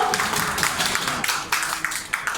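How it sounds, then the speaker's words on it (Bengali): A crowd claps steadily at a press conference held by a government employees' council at the National Press Club, with dense, continuous applause and a few sharper claps standing out throughout. "আমরা জোরে একটা করতালি দিতে পারি না তার জন্য।"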